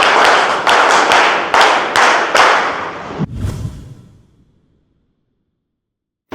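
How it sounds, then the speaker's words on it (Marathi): An audience at a sericulture training session claps loudly in a dense, rhythmic burst with regular accents, then the applause dies away into silence. "एकदा जोरदार टाळ्या होऊ द्या"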